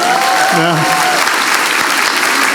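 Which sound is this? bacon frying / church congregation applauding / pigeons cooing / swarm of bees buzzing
church congregation applauding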